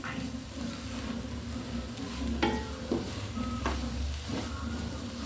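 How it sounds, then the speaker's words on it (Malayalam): Ground spice powders sautéed with softened onion in a hot pan give off a steady close sizzle, with stirring scrapes and soft knocks of a spoon against the pan. "പൊടികളെല്ലാം ഇട്ട് നന്നായി വഴറ്റുക."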